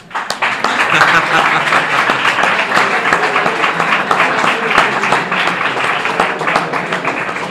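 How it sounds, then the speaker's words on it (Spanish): A crowd applauds steadily for several seconds, dense clapping at a constant level that fades slightly toward the end. "Un aplauso para el compañero."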